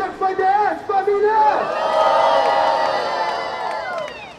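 A crowd at an outdoor rap battle in a Rocinha square cheers and whoops loudly, the shouting voices swelling into a sustained roar that fades slightly toward the end.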